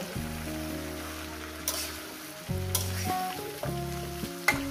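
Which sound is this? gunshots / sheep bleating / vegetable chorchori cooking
vegetable chorchori cooking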